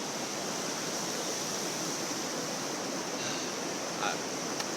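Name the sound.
Colorado River flowing in the Grand Canyon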